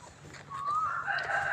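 A chicken at a Buddhist temple in Lampang, Thailand, gives a rising crow-like call, near and fairly loud, with soft outdoor background.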